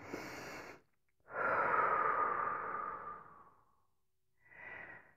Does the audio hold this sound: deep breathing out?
yes